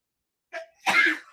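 A single sneeze, close and fairly loud, with a small intake breath just before the main burst, heard during a live reaction to a Philadelphia Flyers vs Colorado Avalanche hockey game.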